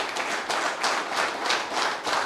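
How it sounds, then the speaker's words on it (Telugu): A group of men aged 21 to 25 clapping in a hall during a motivational speech, several short bursts of rhythmic handclaps in a pulsing pattern, moderately close, without talk. "Between the age group of 21 to 25 మాత్రమే చప్పట్లు కొట్టండి."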